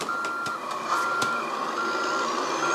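Steady electronic reversing beeps from a truck backing up a load in American Truck Simulator, repeating evenly and loud, with engine rumble underneath and no talk.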